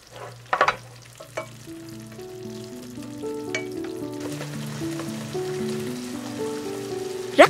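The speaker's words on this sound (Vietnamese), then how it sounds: "Tiếp tục rim khoảng 5 phút nữa rồi mình tắt bếp" Anchovies simmer in a pan topped with fried shallots and garlic, giving a soft, continuous sizzle and bubbling with a few sharp pops and clinks near the start and end.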